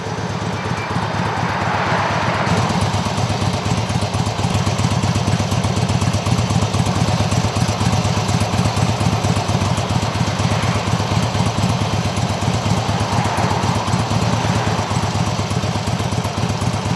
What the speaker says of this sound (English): We leased the motorcycle from the Harley-Davidson dealer,